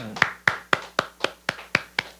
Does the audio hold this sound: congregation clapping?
yes